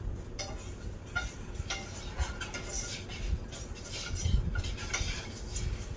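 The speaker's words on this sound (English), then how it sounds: "we're just going to take our whisk and combine those dry ingredients" Whisk combining flour, salt and other dry ingredients in a bowl for a trifle, making quick, light metallic taps and scrapes in a steady rhythm. The whisking is close but fairly soft, with a faint voice in the background at times.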